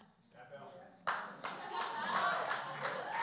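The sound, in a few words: audience applause clapping in church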